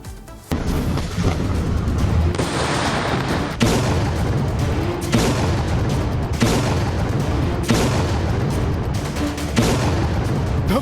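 Military strikes in Lebanon produce a rapid series of loud explosions and booms, heavy blasts following one another every second or two with no pause between them.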